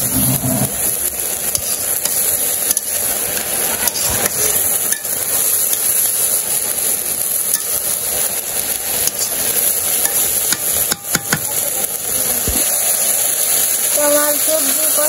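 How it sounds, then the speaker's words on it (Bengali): Vegetables sautéing in a pan in a village kitchen, a continuous loud hiss of frying with intermittent scrapes and knocks of a spatula stirring, and a voice speaking briefly near the end. "তোমার সবজি কষানো হয়ে গেছে, হালকা করে কষিয়ে দিচ্ছি।"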